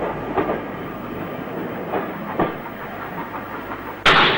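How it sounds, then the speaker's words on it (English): A train stands at London's Paddington station behind a King class steam locomotive, giving a steady rumbling hiss with soft rhythmic clanks before a sudden louder burst of steam near the end, with no talk. "King stands at Paddington on a Wolverhampton train to begin our journey over the route of the Cambrian Coast Express."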